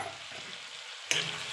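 Pork frying and being stirred in a pan, with potatoes cooking alongside: a steady low sizzle, then a louder burst of crackling and scraping near the end.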